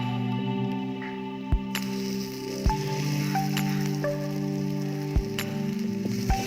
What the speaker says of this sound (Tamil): அதனால் 2 கொத்து கருவேப்பிலையை போட்டு 2 பக்கமும் திருப்பி விடுறேன்